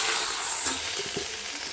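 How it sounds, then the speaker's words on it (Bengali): Dried whole chillies, curry leaves and mustard seeds frying in a small amount of oil, giving a steady, close, bright sizzle with a few soft stirring knocks and no talking. "এরকম হালকা তেলে, একদম অল্প সামান্য তেলে এইভাবে ভাজতে হবে।"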